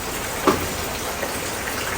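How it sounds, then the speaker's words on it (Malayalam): Steady, dense hiss of heavy rain falling outdoors, a continuous wash of drops with no voices. "പുറത്ത് നല്ല മഴ പെയ്തുകൊണ്ടിരിക്കുക കേട്ടോ"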